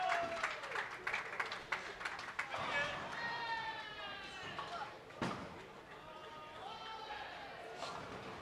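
A crowd at a senior bowling championship cheers and applauds for the England team, bursts of clapping and shouts rising and falling while a voice talks over it.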